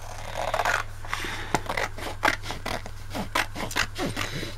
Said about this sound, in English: I've got a couple of pages out of a magazine, and I'm just going to cut